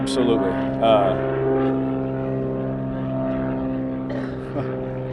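A propeller airplane drones overhead at an outdoor press conference with an NFL quarterback, a steady low engine hum with rising and falling harmonics persisting throughout while voices speak over it.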